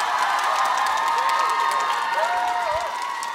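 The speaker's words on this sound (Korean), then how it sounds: "우리 네 명의 연습생에게 다시 한번 뜨거운 박수 부탁드립니다." A studio audience at the YG Treasure Box final applauds and cheers for four trainee performers. The clapping is dense and continuous, with scattered whoops rising above it, then it eases slightly toward the end.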